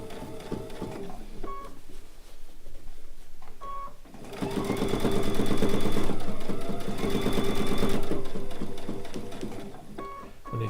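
Sewing machine stitching the edge of a fabric bowl cozy, a short start and then a loud steady whir lasting about five seconds before it stops. Faint clicks and handling noises come before and after.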